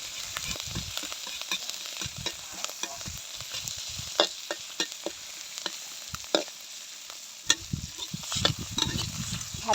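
Curry paste frying in a pan, a low steady sizzle with frequent quick scraping and tapping strokes as it is stirred, close and fairly quiet.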